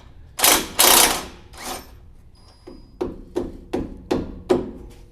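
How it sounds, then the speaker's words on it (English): A rubber mallet knocks the lower sway bar link off a 2022 Toyota Tundra during a lift kit install. Two heavy close blows come first, then a steady run of five or six sharper, lighter knocks. "So we just pop that off with a rubber mallet."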